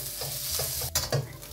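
Ginger garlic paste fries in hot oil in a wok and is stirred, giving a constant sizzle broken by two sharp scrapes of the spatula near the end.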